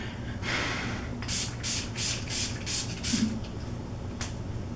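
Six rapid hissing spritzes from a makeup setting spray bottle close by, then a pause and one more short spritz.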